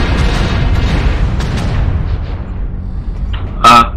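Artillery strike explosions in a video game: a continuous low rumbling boom fills the first seconds and slowly fades, then a brief sharp burst hits near the end.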